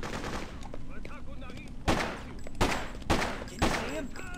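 Gunfire in the game Freedom Fighters: continuous close automatic shots with several louder bursts standing out, loud and dense, with no voice over it.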